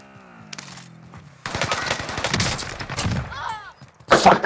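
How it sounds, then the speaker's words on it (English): Bursts of rapid gunfire in a battle-royale video game match, loud clustered shots mid-clip and again at the end, following a quieter stretch with tonal game sounds. "Where do those shots come from, dude?"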